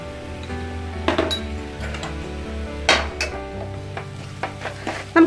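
Stirring chicken curry masala with chilli powder and Kashmiri chilli powder in a pan over a low flame: a steady low sizzle with scraping strokes and a few clinks of the spoon on the pan, close and alone.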